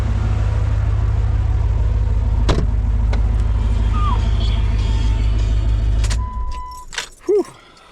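A built 1996 Jeep Grand Cherokee crawler with an MSD ignition coil and a K&N filter idles with a loud, deep rumble, then the engine shuts off. A jingle of keys and a few small clicks follow in the quiet.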